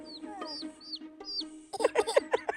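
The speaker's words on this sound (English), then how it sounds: "It's a duck and a chicken." Chicken clucking on a farm, a run of short, loud clucks and squawks close by, preceded by softer higher chirps from a small bird or duckling.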